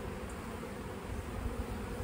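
Honey bees crawl over a brood frame from an open hive, giving a steady, soft, close buzzing hum with no pauses.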